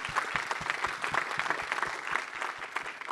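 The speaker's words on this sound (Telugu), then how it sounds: "first big round of applause for this" Audience applause at a film pre-release press meet: a dense, steady round of many hands clapping, filling the room at even loudness for the full stretch, with no voices over it.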